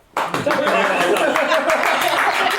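Podcast hosts give a short burst of clapping at the close of an episode, a quick ragged patter of several hands mixed with light laughter and chatter.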